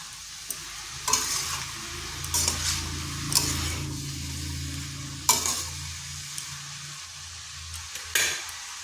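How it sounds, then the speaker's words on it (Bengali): Bottle gourd pieces stirred and fried in a pan, with a steady sizzle and scattered scrapes and taps of a spoon against the pan at irregular intervals, close and moderately loud, no talking. "এইভাবে নেড়ে চেড়ে বেশ কিছুক্ষণ লাউটাকে ভেজে নিতে হবে।"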